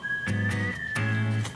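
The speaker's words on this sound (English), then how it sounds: "I like the whistle melody is actually a little bit syncopated with the background instrumentals" A bright whistled melody line, slightly syncopated against the instrumentals, holds steady over a pulsing pop backing track with rhythmic bass hits, moderately loud throughout.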